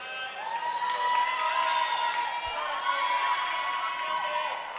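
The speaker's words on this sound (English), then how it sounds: "crowd's pretty into it" A crowd at an indoor climbing competition, the provincial lead and top-rope semifinals, cheers and shouts in a sustained roar of mixed voices that holds steady throughout at moderate distance.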